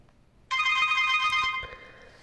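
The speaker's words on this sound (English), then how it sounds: "Phone ringtone. I love the default ringtones" A Soyes XS12 Pro phone plays its default ringtone: a bright, close, electronic melody that starts abruptly, holds for about a second and then fades out quickly in a quiet room.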